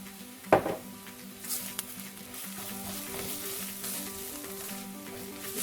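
Shrimp sizzle steadily in a pan with garlic, black pepper, herb seasoning, onion powder and garlic powder. A utensil clinks against the pan at the start and once more partway through.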